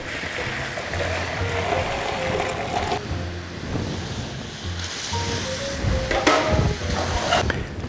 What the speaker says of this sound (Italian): Andiamo a scolare la pasta.